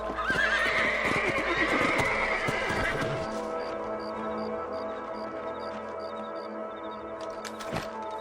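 Horses whinny loudly at first over clopping hooves in the video game Red Dead Redemption, then the hoofbeats continue more quietly alongside a faint ringing tone, with one sharp thump near the end.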